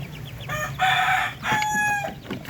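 A Darag native chicken rooster crows nearby in a farm pen, two drawn-out calls with a brief cluck at the end, moderately loud with no talking.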